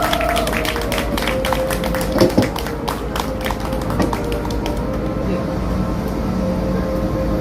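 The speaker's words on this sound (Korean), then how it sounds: "나오실 때 큰 박수를 좀 부탁드리겠습니다." An audience claps at a Korean political gathering to welcome a professor to the stage, a dense, sustained patter of many hands lasting throughout, with voices mixed in.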